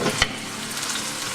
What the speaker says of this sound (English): So my oil is hot. I got a bit of water in there, that's why it splashed on.